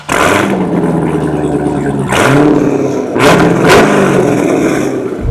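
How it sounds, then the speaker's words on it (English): A Trans Am's engine rumbles at idle, then its Corsa exhaust barks through several sharp, loud revs that rise and fall close by. "It also comes with a Corsa exhaust that sounds incredible."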